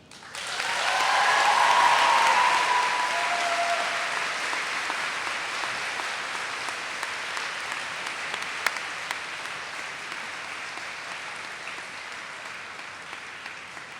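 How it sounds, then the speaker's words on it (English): Applause from an audience at a school convocation, a dense wash of many hands clapping. It swells quickly and then holds steady while slowly fading over a long stretch, with faint voices underneath. "one more nice round of applause for our very own Kiyomi Hamilton"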